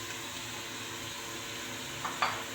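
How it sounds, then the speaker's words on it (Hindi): Tomatoes and green chillies go into a pan of golden fried onions for a masala bhindi, giving a steady close sizzle of frying with a brief louder hiss and splash near the end. "अब मैं डाल रही हूँ इसमें टमाटर, सब्ज़ मिर्च"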